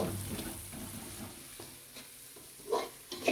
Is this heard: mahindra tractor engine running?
no